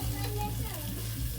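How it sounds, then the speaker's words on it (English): Waffle batter cooks inside a closed sandwich and waffle maker, giving a steady, soft sizzle with low hum underneath that holds evenly throughout. "I now close the sandwich maker or the waffle maker, open my machine, and let it cook for around 2 to 3 minutes"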